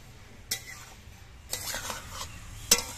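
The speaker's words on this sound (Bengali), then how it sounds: "এবার ঢাকনাটা খুলে নিচ্ছি" A lid comes off a pan of simmering flat beans with a few close metallic clinks and scrapes, spaced about a second apart over a faint background hiss.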